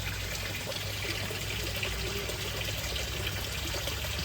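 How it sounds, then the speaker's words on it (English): Very warm water pours steadily from a jug into a koi pond setup, making a continuous, fairly loud splashing rush close by with no talking. "And now, on another jug of very warm water,"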